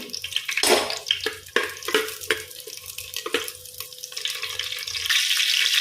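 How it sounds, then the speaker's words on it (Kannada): Slit green chillies frying in hot coconut oil, a crackling sizzle with bursts of spatter, clinks of stirring, and a louder hiss toward the end. "ಎಣ್ಣೆ ಬಿಸಿ ಆಗುವಾಗ ಒಂದು ಎರಡು ಕಾಯಿಮೆಣಸನ್ನು ಈ ರೀತಿ ಉದ್ದಕ್ಕೆ ಸೀಳಿ ಹಾಕುವ"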